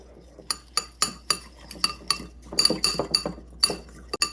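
A utensil stirring a brown sugar sauce mixture in a glass bowl, with sharp rhythmic clinks against the sides, close and clear, about a dozen strikes.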